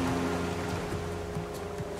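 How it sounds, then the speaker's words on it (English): Choppy ocean waves in the survival game Raft wash steadily around a small raft, a continuous near surf wash with low rumbling swell beneath it, no voices. "the waves are so choppy right now"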